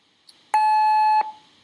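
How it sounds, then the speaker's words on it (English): A workout timer sounds one loud, steady electronic beep lasting under a second during a rest between exercise sets, with quiet room tone before and after. "So I'm just gonna put the timer."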